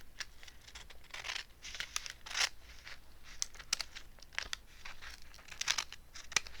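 Paper pages of a converted textbook being trimmed, a quiet close series of irregular snips, crinkles and rustles with short bursts scattered throughout.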